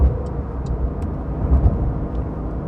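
A 2020 Porsche 911 Carrera 4S engine while overtaking on the road, a low steady rumble heard from inside the car with road and wind noise, rising slightly as it pulls past.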